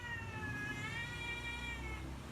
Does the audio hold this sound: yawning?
no